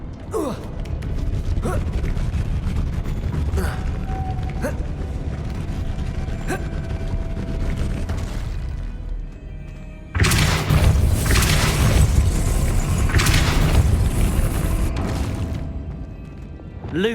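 A Depulso force spell cast in the game Hogwarts Legacy: a sudden loud burst at about ten seconds, with a dense whooshing, rumbling blast that stays heavy for several seconds over a steady ambient game background.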